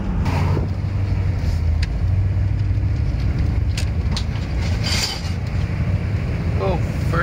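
Car driving on Highway 401, a steady loud road rumble and tyre hum from inside the vehicle throughout, with a few brief clicks and a short voice near the end.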